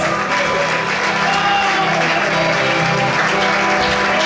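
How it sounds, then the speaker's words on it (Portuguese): A church congregation bursts into loud, dense applause, a steady wash of many hands clapping with crowd noise mixed in throughout. "aplauda o Senhor e glorifique a Deus"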